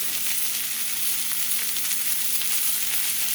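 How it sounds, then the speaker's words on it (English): Pork chops sear in a cast iron pan with a loud, steady, close-up sizzle that stays even throughout, with no talking. "Searing juices."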